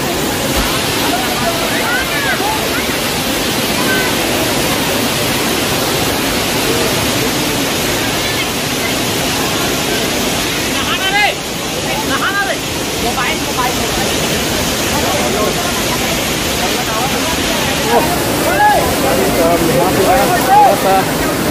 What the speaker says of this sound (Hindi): बाकी जो वाटरफॉल है काफ़ी खूबसूरत सा वाटरफॉल है